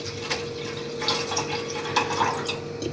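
Packaged milk poured into a pot for sheer khurma, an Eid dessert, a steady close liquid pour with soft splashing and gurgling in a home kitchen.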